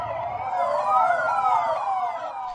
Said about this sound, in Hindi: पूरा इलाका काफी देर तक सायरन की आवाज से गूंजता रहा।